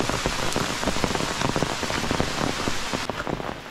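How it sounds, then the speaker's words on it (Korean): Water flows in a mountain stream at Haksodae near Samhwasa in the Mureung Valley after some rain, a steady splashing hiss with dense patter throughout, close and fairly loud with no talking. "물이 조금 흐르네요."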